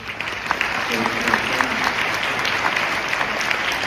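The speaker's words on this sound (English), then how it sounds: "Give a warm welcome, round of applause to our panelists." Audience applause for conference panelists at a panel discussion, a steady, full wash of many hands clapping that holds at an even level throughout, with faint crowd murmur underneath.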